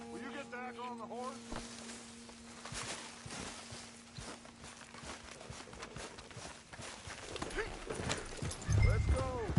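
Horse hooves clip-clop at a walking pace in a video game played on PS4, with a faint whinny, steady under voices and game sound that grows louder near the end.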